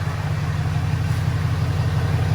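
Steady rumble of a 2018 Ram Cummins diesel engine with major modifications running at idle, a loud, even, low drone that holds unchanged throughout without any talking.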